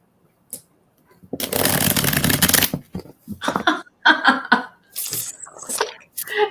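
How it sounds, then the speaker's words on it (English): A tarot deck is riffled in a long, crisp burst, followed by several shorter shuffling and tapping bursts, close up with no talking. "let me just give this deck a quick shuffle"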